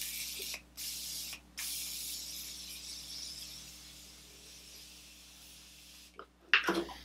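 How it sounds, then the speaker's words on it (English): Morphe setting spray mists onto a face in a couple of short hissing bursts, then a longer fainter spritz, followed by a brief clink of the bottle being set down, close and quiet. "I'm just going to use my Morphe setting spray to set that into place."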